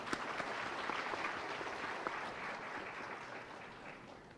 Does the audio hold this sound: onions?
no